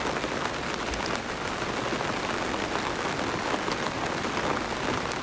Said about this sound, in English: Gardening in the rain.